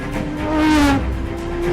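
Aston Martin Vulcan track car accelerating hard, a loud close engine howl with a steady rising tone and a slight dip midway, alone with no talking.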